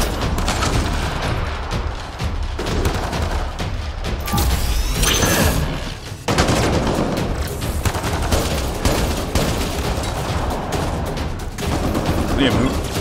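A sustained firefight in Mass Effect Andromeda, with dense overlapping gunshots, booms and rattling automatic fire that continue almost without pause, while people talk over the combat.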